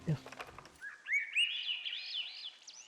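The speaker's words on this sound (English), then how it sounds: "Sweet bird noises." A short burst of murmuring, then bright video game bird chirps and a warbling whistled song rising and wavering, clear and fairly close.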